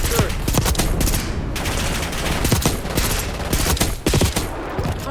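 Rapid gunfire bursts in Black Ops 6 multiplayer, with repeated sharp close shots in quick volleys over dense game noise and explosions, continuing throughout.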